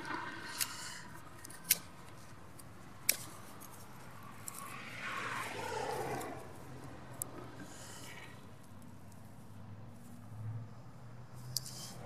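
Knife blade shaving a wooden spoon handle, a series of sharp, close scraping cuts spaced irregularly over a soft rustling background, with no talking.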